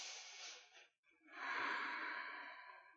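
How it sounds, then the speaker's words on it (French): A deep breath taken during a yoga practice, a long audible inhale, a short pause, then a fuller, breathy exhale, close and quiet with no talk over it. "Grande respiration."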